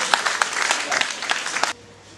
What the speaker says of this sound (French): Merci d'applaudir Chacha.